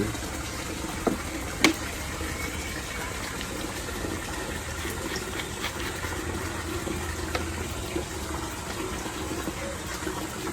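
Water running and trickling into a hydroponic nutrient mix with Snap A solution, a steady continuous flow with a couple of brief knocks, no talking.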